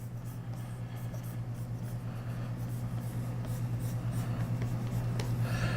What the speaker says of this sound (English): I'm just gonna draw it from the front